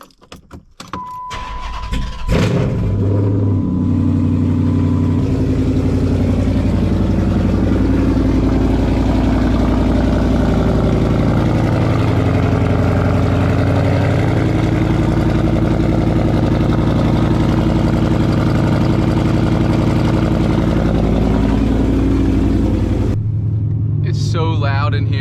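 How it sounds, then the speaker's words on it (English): A Dodge SRT8 cranks over and fires up after a brief jangle of keys, then settles into a loud, deep, rumbling idle heard from inside a gutted cabin and steady for about twenty seconds. "I'm gonna give it a start up and then let it warm up a little bit."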